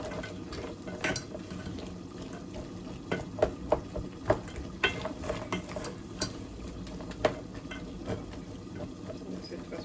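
A frying pot with cumin is stirred while it sizzles, for rice with beans and pork, giving a steady frying hiss broken by a series of sharp scraping clicks from the utensil against the pot, close by.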